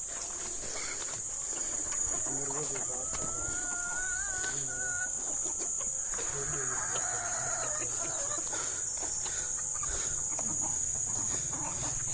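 Chickens and a rooster cluck at a haveli yard, scattered clucks and squawks rising now and then over a constant shrill buzz of crickets, fairly faint with no talk.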